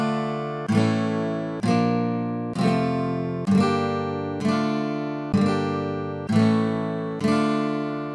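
A Pachelbel-style chord progression in D Aeolian, a minor key, is played as eight evenly spaced struck chords, roughly one per second. Each rings and decays before the next, sounding close and alone without any voices.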